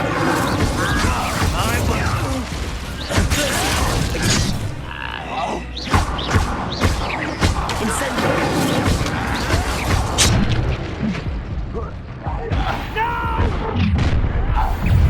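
Incendio fire spell cast in the video game Hogwarts Legacy, with loud whooshing bursts and booming impacts over dense game sound effects and music, plus voices speaking.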